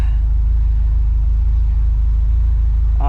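A warmed-up 1980s car engine idles steadily, a continuous loud low rumble with no talk over it.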